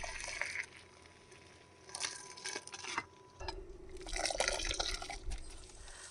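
Water drains and drips through a collapsible strainer at a van campsite, with splashing liquid bursts around two, three and four to six seconds over a low background hum.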